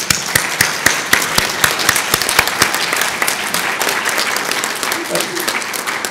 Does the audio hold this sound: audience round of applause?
yes